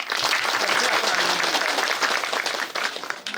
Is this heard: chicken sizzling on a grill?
no